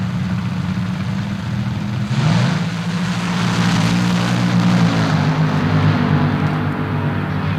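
A Top Fuel dragster at the 1976 NHRA World Finals roars loudly and continuously, its engine tone sweeping upward briefly before settling into a sustained, heavy drone.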